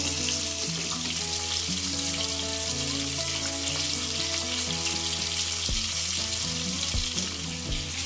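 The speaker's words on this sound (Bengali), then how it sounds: "মাছটা আমি খুব কড়া করে ভাজবো না, আমি হালকা ভাবে ভাজবো।" Pieces of katla fish fry lightly in hot oil for Bengali-style doi katla, giving a steady, even sizzle throughout with a faint tonal hum underneath and no talk.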